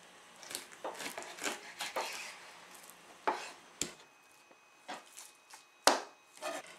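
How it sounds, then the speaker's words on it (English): A knife cuts through the joint between a raw chicken thigh and leg on a board, with close, irregular chopping thuds and soft squishy cuts, two sharper strikes standing out. "You'll see the joint, and just run your knife right through it."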